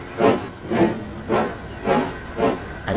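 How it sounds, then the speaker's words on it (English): A steam locomotive chuffs in a steady rhythm, about five loud hissing puffs at even intervals, close by, with no voices. "The next day, Percy puffed out of the shed"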